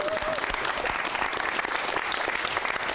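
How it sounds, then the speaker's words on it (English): Audience applause at a live fireside chat event, a steady, full round of clapping from a crowd, sustained at an even level, with faint voices mixed in. "Can we give Karl a round of applause?"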